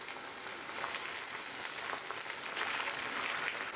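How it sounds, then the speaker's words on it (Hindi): Ginger garlic paste fries with potatoes and onions in hot oil, a steady dense sizzle and crackle that holds evenly throughout at a moderate, close level, with no voices. "अदरक लहसुन डालने के बाद हम 30 सेकेंड के लिए और फ्राई कर लेंगे।"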